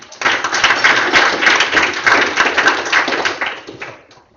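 A room full of people applauds a speaker at a tech talk, a steady, dense wash of clapping that swells quickly, holds for several seconds and then fades out.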